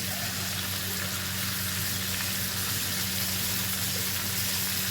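Panch phoron spices frying in hot oil for a prawn dish, a dense, even sizzle that holds steady throughout at moderate level.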